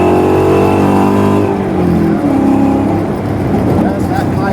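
Ford Mustang Coyote V8 in a 1997 Mustang swap revving hard, a loud rising engine scream that drops off midway into a rougher exhaust burble, with people talking over it.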